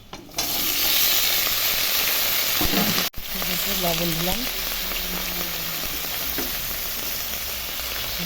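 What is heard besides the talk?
vegetables frying in pan for small fish curry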